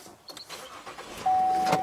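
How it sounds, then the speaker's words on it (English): A car engine cranks and starts as the car is about to back up, a faint rumble building to a steady idle with a thin whine rising over it, heard up close. "try backing up the car"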